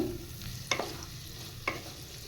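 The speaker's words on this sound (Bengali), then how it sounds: "হলুদ আর নুন দিয়ে এবার কচু আলু ভেজে নেব" Pieces of taro and potato fry in a pan with turmeric and salt, a soft steady sizzle broken by two sharp scrapes of stirring, close and quiet with no voices.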